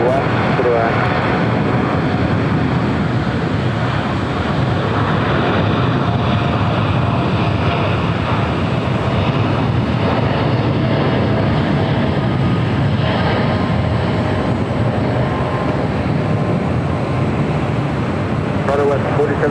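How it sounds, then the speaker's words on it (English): A United Boeing 787 Dreamliner arriving at LAX gives a steady, loud jet roar that holds throughout, with a faint radio voice in the background. "It's our next arrival. On a bypass on the United Dreamliner."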